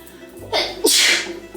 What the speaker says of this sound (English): Ooh, my setting spray made me sneeze.